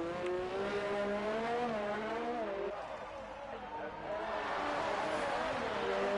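Race car engine in a racing video game lapping the Monaco street circuit, a continuous loud whine rising and falling through gear changes, with a brief dip mid-lap, heard under commentary talk.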